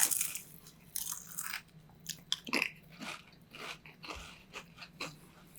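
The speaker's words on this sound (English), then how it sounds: "I don't like the crunching sound in front of the mic either." Pizza-flavored Pringles chips are crunched and chewed in irregular, close bites, sharp crisp snaps separated by short pauses, with no talking.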